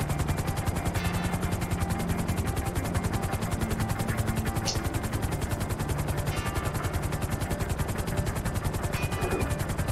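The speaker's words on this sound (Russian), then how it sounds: "Этот вертолет здесь был один." A helicopter in Grand Theft Auto V with a Vice City overhaul mod flies steadily nearby, its rotor chop a continuous loud rhythmic thudding throughout with no talk over it.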